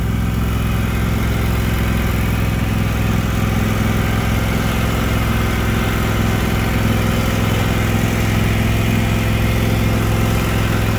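John Deere tractor engine running steadily, a loud continuous low diesel drone and rumble close by, unbroken for the whole stretch with no talk.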